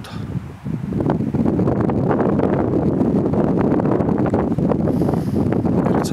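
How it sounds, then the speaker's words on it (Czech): Cold wind gusts steadily on a steep mountain trail beside a stream, roaring across the microphone for several seconds with constant rushing noise and no talk. "fouká hodně studený vítr"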